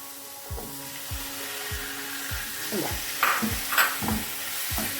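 Anchovies sizzle faintly in a pan for a thoran with mango while a spoon scrapes and stirs in a regular rhythm of soft repeated strokes, near and alone.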